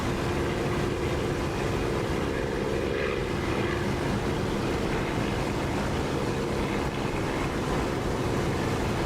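A Corsair propeller fighter in the DCS flight simulator drones steadily and loudly with a constant, rushing engine and wind roar throughout, no pauses or changes.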